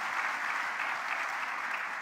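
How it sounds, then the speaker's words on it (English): Steady, even applause from a conference audience at a youth forum thanking a panel of speakers, a continuous wash of clapping throughout. "A big round of applause."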